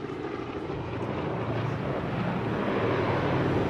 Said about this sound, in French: Tandis que les premiers avions apparaissent, il semble évident que la bataille a mal tourné.